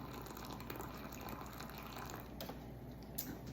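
A cup of water is poured onto a tablespoon of unflavoured gelatin, a faint, steady trickle of liquid heard alone at low volume.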